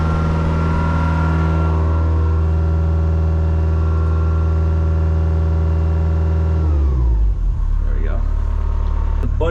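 Hitachi EX100 excavator diesel engine held at full throttle, a loud steady close drone with strong harmonics that drops in pitch as it winds down near the end, with a voice speaking over it.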